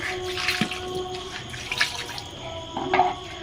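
Water splashes and drips over a large 10 kg catla fish laid out for scaling, a few short pours and trickles at close range in a quiet room.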